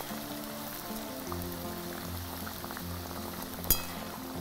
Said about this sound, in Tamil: அந்த கரண்டியில் நல்லா கிளறி விட்டுடுங்க